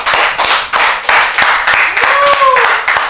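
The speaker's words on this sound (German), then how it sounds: "Könnt ihr mal alle klatschen, meine Lieben?" An audience at a German talk show claps in a steady burst of applause, loud and close, with a brief whistle-like tone rising over the clapping.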